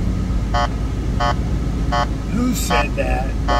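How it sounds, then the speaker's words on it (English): A car horn gives several short, evenly spaced beeps over a steady rumble of road noise from inside a truck cab, while someone talks over it. "Sorry about the beeping."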